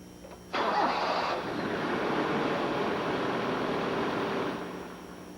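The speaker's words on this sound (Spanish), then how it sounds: "empezando desde el momento en que el motor es arrancado" A car engine cranks and catches, then settles into a steady, fairly quiet idle before easing off.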